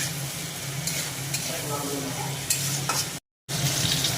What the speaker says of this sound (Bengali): তারপরে দেওয়া হলো এর মধ্যে কেটে রাখা গাজর আর আলু, আর দেওয়া হলো পরিমাণ মতো লবণ